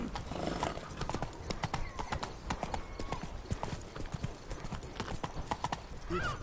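Roach the horse gallops in The Witcher 3, a steady rapid clip-clop of hooves with a whinny near the end, loud and close against ambient game sound.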